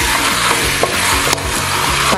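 Lemongrass sizzles loudly as it is sautéed in a pan for chicken tinola, a steady close frying hiss broken by a few scraping strokes of a stirring utensil, with no voices.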